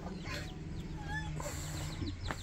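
Chickens cluck and chirp steadily amid constant farmyard background noise, with a few short bird calls scattered throughout.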